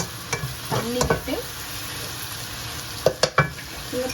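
Mushroom frying on high flame sizzles quietly in a pan as water is added, while a utensil scrapes and clatters against it in a few sharp bursts.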